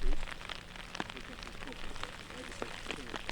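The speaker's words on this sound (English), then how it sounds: "And the rain definitely having something to do with that." Rain falls steadily on a disc golf course, a soft hiss with scattered drop taps throughout, while faint voices are heard in the background.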